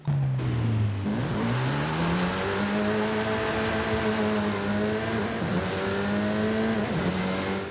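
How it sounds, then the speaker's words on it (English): The Lynk & Co 03 Cyan Racing race car in Forza Horizon 5 revs steadily and loudly, its engine note dipping then climbing and holding a harsh high drone, with brief drops between gear changes and no talk. "let's go ahead and take a listen to how this thing sounds"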